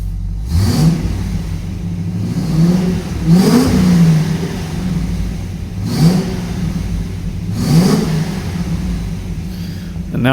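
Range Rover Classic with a 3.9 V8 engine and tubular exhaust manifolds revving repeatedly, four loud rising blips roughly two seconds apart over a steady idle, close to the microphone.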